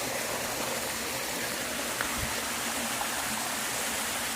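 Steady rushing water from Kuliraatti Falls in Saptur, a constant broadband roar with no talking, even in loudness throughout.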